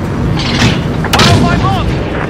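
A heavy boom from a scrambler self-destructing in Call of Duty Modern Warfare multiplayer Drop Zone, a short loud blast layered under busy game effects and radio-style voice chatter.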